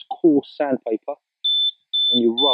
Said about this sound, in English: that's my alarm setting, auto set an alarm after 45 seconds